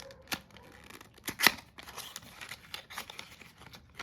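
A cardboard box for an Eveready Hero DL80 rechargeable torch is opened by hand, with close crinkling, tearing and scraping of packaging in scattered bursts and one sharper rip.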